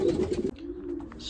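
Young racing pigeons back at the loft give a short, soft cooing call, close by and fairly quiet, with a steady low hum running beneath.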